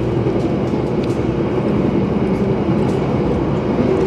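Steady rumble and rattle of an Ambarawa Ekspres economy-class train running between Semarang and beyond, heard from inside a carriage, continuous and fairly loud with no talking.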